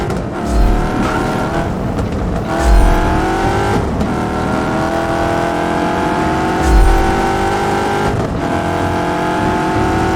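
A car in Just Cause 3 drives with a steady, loud engine drone, the pitch rising and falling through gear changes, with a few low thumps and bumps along the way and no talk.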